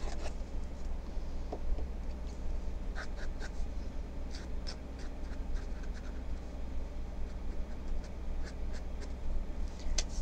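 A Hunt dip pen nib moves over paper in soft, steady scratching strokes with small ticks, quiet and close, with no talking.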